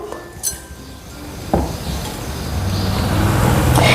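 Fried urad dal goes into a tavli pot for a rustic village-style varan, with a couple of sharp metallic clinks followed by a growing rushing, rattling pour that grows louder toward the end.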